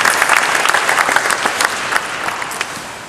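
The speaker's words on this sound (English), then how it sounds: "definitely a round of applause for Brooks." An event audience at a women's basketball program claps and cheers for about three seconds, a loud, close, dense burst of many hands with a few sharper individual claps.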